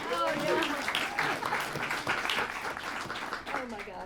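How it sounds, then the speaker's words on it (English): An audience at a radio station's live stereo session gives Natalie another round of applause, steady clapping and a few cheers filling the room for about four seconds, with voices mixed in. "Natalie, one more round of applause for her"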